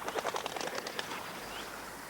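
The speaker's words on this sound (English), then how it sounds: "Wood pigeons make a noisy clatter of wings when they're disturbed." A disturbed wood pigeon takes off with a brief, noisy clatter of wings, a burst of flapping in the first second that fades into faint background hiss.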